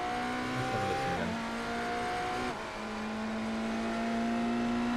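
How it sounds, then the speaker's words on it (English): A loud race car engine drones at high revs at Sebring, its pitch dropping sharply twice as the wheels lock up under hard braking, with a steady tire scrub beneath. "Yeah, that's a lockup."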